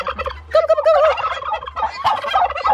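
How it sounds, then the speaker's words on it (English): Turkeys gobble nearby in loud, rapid warbling bursts, one call answering another, over a low steady hum. "Somebody else is gobbling."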